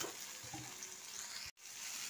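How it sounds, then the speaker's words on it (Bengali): Green peas fry in a pan as a steady, soft sizzle with light stirring, broken by one brief silence before the sizzle resumes. No one speaks. "এবার এতে দিলাম কড়াইশুঁটিটা।"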